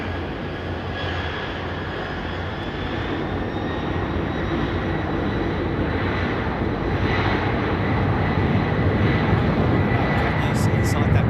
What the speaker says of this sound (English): Can you see inside that cockpit, Julie? Because all I can see is black